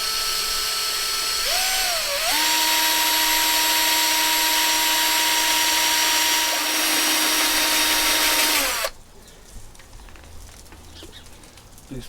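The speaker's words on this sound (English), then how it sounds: "I'm going to just try and see if I can get a couple of holes in there. I'm going to drill very slow." A power drill runs loud and steady at slow speed while boring holes into a plant pot, its motor whine holding one pitch for several seconds before it cuts off abruptly, leaving quiet outdoor background.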